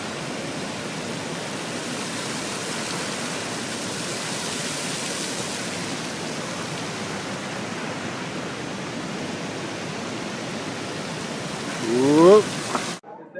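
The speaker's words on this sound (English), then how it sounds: "the fountains are fabulous" The fountains at the Petronas Twin Towers in Kuala Lumpur give off a steady, even rush of falling water that lasts throughout, with a brief rising squeak near the end.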